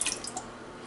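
Warm water trickles into a hand-cranked bread machine pan for mashed potato bread, a few close drips and splashes at the start trailing off into a quiet wet hiss.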